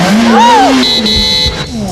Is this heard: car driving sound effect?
yes